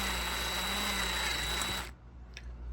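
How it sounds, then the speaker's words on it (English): A power drill with a number 36 bit whines steadily at close range, drilling out a pop rivet on a toy train locomotive, a continuous high mechanical buzz that cuts off abruptly, leaving a quiet tail with a faint clink. "We'll start by drilling out the pop rivet."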